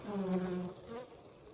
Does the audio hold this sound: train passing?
no